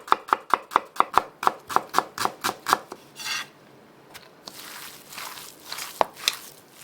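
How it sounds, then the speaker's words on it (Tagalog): Onion being chopped for a burger patty: quick, crisp, evenly spaced knife strikes on a cutting board, about a dozen in a row, followed by scraping and a few scattered taps, close and clear. "Maghihiwa din pala tayo ng sibuyas at ilalagay din natin sa burger patty to add a distinct flavor."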